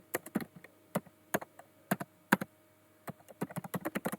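Someone types a caption on a computer keyboard, with crisp, uneven key taps close by, in short bursts with brief pauses and a faster run of keystrokes at the end.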